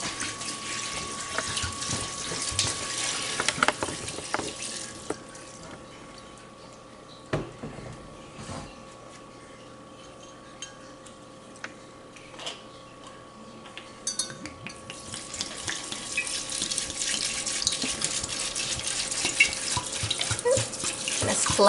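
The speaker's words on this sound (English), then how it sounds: "And then I'm going to fill this up with water" Tap water runs into a soup pot holding vegetables, seasoning and salt for stock, with a steady stream that pauses midway and resumes, plus light clinks of the pot in a home kitchen.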